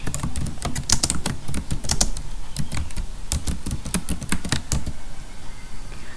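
Rapid, uneven clicks of a computer keyboard as C program code is typed, close and crisp, bursts of keystrokes with short pauses and no talking.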